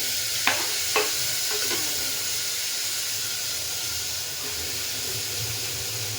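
Tomatoes sautéing in a pan for a tomato biryani, with a loud continuous close hiss and sizzle, a few sharp utensil taps near the start and no talking.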